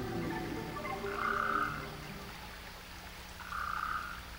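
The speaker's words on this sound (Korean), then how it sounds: "크기가 겨우 3cm 되는 아주 작은 개구리입니다." A tiny frog only about 3 cm long croaks in Brazil, giving two separate buzzing bursts of roughly half a second each, clear and fairly close over a soft, steady natural background with no talk.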